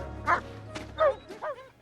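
Sled dogs on a glacier give several separate barks and yips, close and distinct, spaced irregularly over a low steady background hum.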